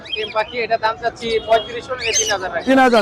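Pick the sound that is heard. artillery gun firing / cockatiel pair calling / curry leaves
cockatiel pair calling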